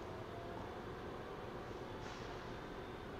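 A steady, quiet mechanical rumble and whir runs without a break from a toy train circling its track on a holiday display, with no voices.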